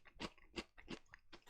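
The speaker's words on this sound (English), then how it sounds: "those biscuits sound good" Crunchy biscuits being chewed close to the mic, four or five distinct crisp bites in a quick rhythm, quiet and alone.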